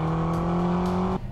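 Steady, loud engine drone from a 2020 McLaren GT with a twin-turbo 4-liter V8, holding a level note close by before cutting off sharply at the end.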